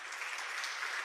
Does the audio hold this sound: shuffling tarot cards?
no